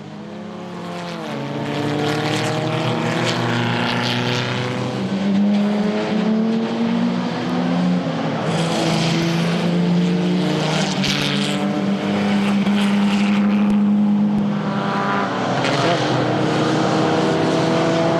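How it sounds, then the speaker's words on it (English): Classic race cars, among them a Mercedes-Benz 300 SL, roaring past at the Le Mans Classic 2010 race, with several loud engines rising and falling in pitch as they pass in a continuous stream. "Now with the race running, the Mercedes-Benz 300 SL, Joachim von Finkenstein, Christian Gabke"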